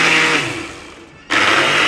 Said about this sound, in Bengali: এভাবে ব্লেন্ডারে হচ্ছে গুঁড়ো করে নিলে কেকটা অনেক সফট হয়